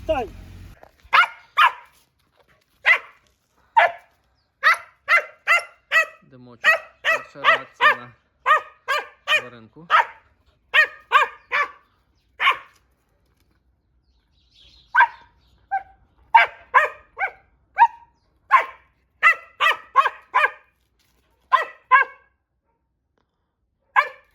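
Laika hunting dogs bark repeatedly and loudly nearby in uneven bursts, with a brief lull partway through before the barking picks up again.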